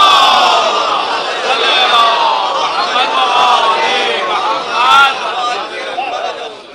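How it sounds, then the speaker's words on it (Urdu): A large crowd at a religious gathering loudly recites salawat together, a dense roar of many voices chanting in overlapping waves that swell and ebb for several seconds. "بلند صلوات پڑھیں"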